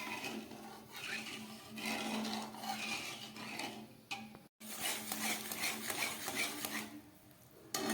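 A spoon stirs sugar syrup in a pan without pause, making quiet, continuous scraping and clinking, with one short break midway.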